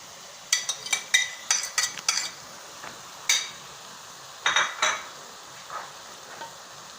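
Onions frying in a pan, a spoon scraping and tapping against it in quick bursts over a soft sizzle, heard up close with no speech.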